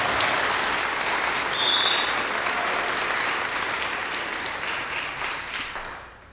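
Audience applauding at a county arts and culture grant awards event, a dense, steady clapping that carries on for several seconds and slowly fades out.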